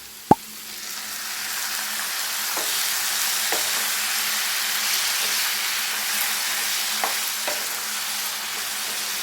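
Curd stirred into a quail masala in a pan: one sharp knock at the start, then a steady hissing sizzle with a few light scrapes and taps of the spoon.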